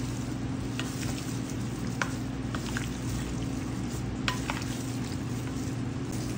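Jelly salad ingredients being stirred together in a bowl, with evaporated milk and sliced cheese going in; a steady wet stirring and mixing texture continues throughout, close up, with no voices.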